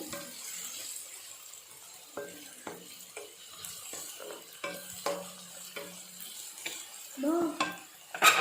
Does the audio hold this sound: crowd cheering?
no